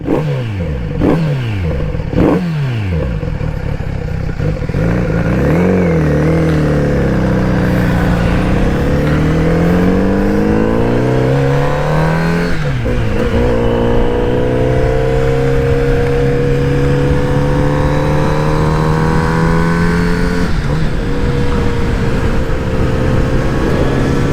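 A Kawasaki Z900 RS motorcycle engine revs repeatedly up and down, then settles into a steady, throaty idle with rising and falling exhaust tones, close and loud throughout.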